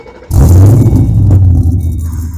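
A 2006 Ford Mustang engine cranks and fires up close and loud, with a sudden heavy low rumble that settles into a deep idle.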